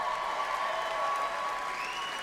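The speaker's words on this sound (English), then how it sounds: "You clap for that." Steady applause from an audience fills the hall at the ESPYS awards show, a dense, even clatter of clapping heard from within the crowd for about two seconds.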